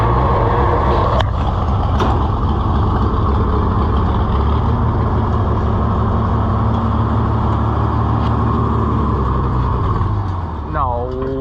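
Farm vehicle engine idling loud and close, running rough with a low uneven throb that holds steady throughout, with sharp clicks near the start and a brief squeal near the end.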